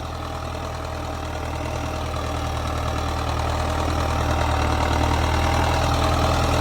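Massey Ferguson 5000 Turbo tractor planting sugarcane in slow fourth gear, a steady loud diesel engine drone with low rhythmic thrum and mechanical rattle, continuous and close, no voices.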